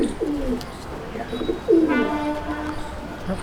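A female pigeon with deep-set eyes coos in a loft, a few close, throaty rolling calls with a louder burst midway through.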